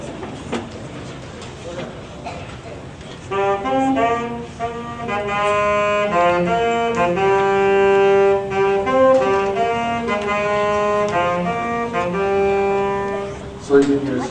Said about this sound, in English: This is the tenor sax.